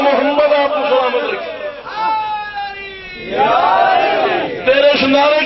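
A crowd at a religious gathering chants a religious slogan in loud, rising and falling unison voices. Sustained tonal phrases swell and overlap in a reverberant hall-like space.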